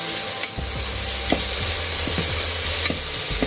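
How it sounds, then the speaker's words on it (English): Finely chopped onion sautes in a hot pan of spluttering oil, a loud, continuous sizzle broken by several sharp spatula scrapes and taps, with no one speaking. "Then I'll be adding one small onion, finely chopped. Saute the onions."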